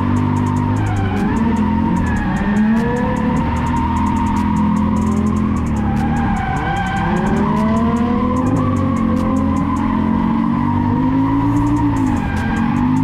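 A car drifts on a race track at ICAR, its engine droning loud and steady while the tires skid and squeal continuously through repeated slides, with no talking.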